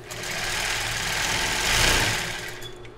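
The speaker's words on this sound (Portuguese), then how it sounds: "Agora eu vou montar a minha alça com o mesmo zigue-zague, retrocesso" Sewing machine running a zigzag stitch to attach a bra strap, a steady continuous mechanical whir at close range with no talking.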